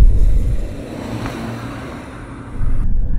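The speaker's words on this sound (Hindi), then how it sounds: "So you get that sporty sound from the engine as well." A 2023 Mercedes C-Class four-cylinder engine drones low and steady, then swells louder near the end as it revs with a sporty tone, with road and wind rumble throughout.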